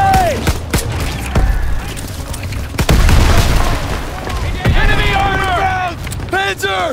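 Grenade blasts and rattling gunfire in the video game Call of Duty: WWII, heavy booms and rapid shots close by under shouting soldiers' voices throughout.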